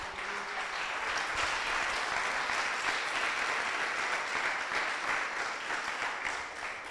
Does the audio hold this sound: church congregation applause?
yes